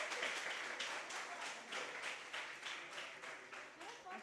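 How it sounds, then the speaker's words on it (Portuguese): A church congregation claps in rhythmic unison for a sister at a Sunday evening family service, steady beats about every quarter second, moderately distant in the room. "Vamos dar uma salva de palmas para a irmã Sheila"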